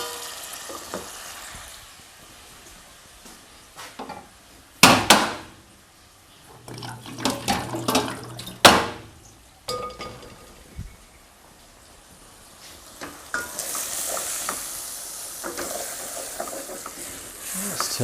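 Rice tipped into a hot pan for pumpkin risotto and stirred, with a steady sizzle and fry under a few scraping, clattering stirs, close by, the sizzling swelling louder toward the end.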